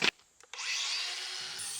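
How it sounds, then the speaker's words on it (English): A grinder fitted with a flat pad scrubs rust off metal: a brief knock, then a sustained hissing abrasive whir at close range. "with a flat pad on it, and we're going to just clean all this rust up"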